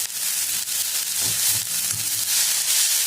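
Chigal greens dry-roast in a hot pan with a steady sizzle and scraping from stirring. The sound is close and continuous, with no talking.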